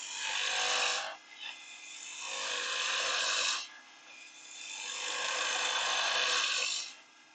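Rough, rasping scrapes of a chisel cutting wood on a lathe, in three long sustained passes with short pauses between them.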